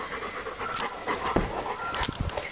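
A dog pants rapidly and close by outdoors, with a quick steady rhythm of breathy huffs and no talking.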